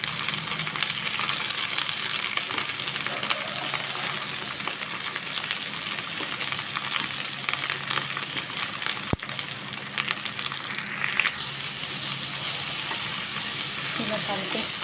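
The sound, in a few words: frying moringa leaves (munagaku) in a pan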